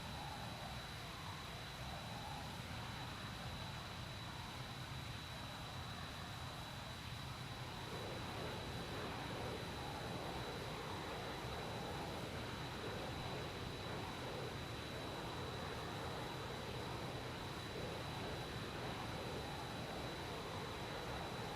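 An airplane in the video game Arma Reforger makes its takeoff run with flaps down, producing a steady, continuous engine roar that holds at an even level and thickens slightly partway through.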